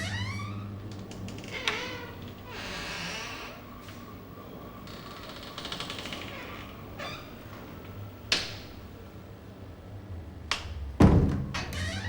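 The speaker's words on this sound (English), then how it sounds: "An inner door, incessantly opening and closing in an annoying way." An inner door in a flat turned into a gallery, presented as an artwork by Martin Creed, opens and closes over and over, giving scattered dull thuds and clunks against a quiet room, with one heavy bang near the end.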